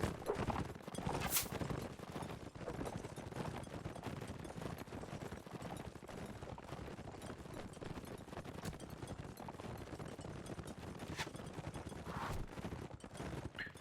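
Cavalry horses gallop through a video game battle, a fast, dense clip-clop rolling under crackling gunfire and clashing combat noise, steady and busy throughout with no talking.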